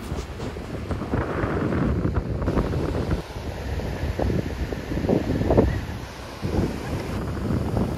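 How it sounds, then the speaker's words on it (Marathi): Strong wind buffets the microphone on Harihareshwar beach, with breaking sea waves washing beneath in uneven surges and no talk. "खूप जोरात वारा सुटला आहे आणि समुद्राच्या लाटा तुम्ही बघू शकता"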